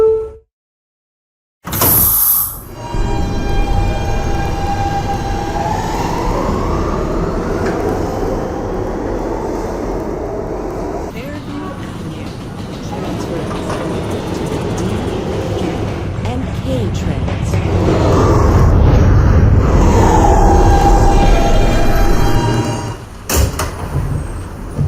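A westbound B subway train runs with a loud, continuous rumble and rattle of wheels on track for over twenty seconds, rising toward the end, after a brief silence at the start; a recorded announcement voice speaks over it.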